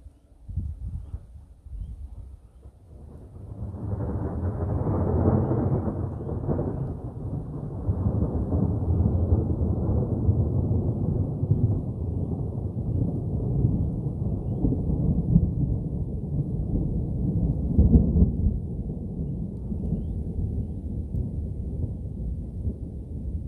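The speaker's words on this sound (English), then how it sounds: "Wow, there you go, bit of thunder, bit of lightning, and whammo, good rain, good, nice, solid rain." Thunderstorm with heavy rain in the Australian bush: quiet opening, then a deep rolling thunder swell around five seconds settling into a loud, steady downpour roar with another rumble near the end, no voices.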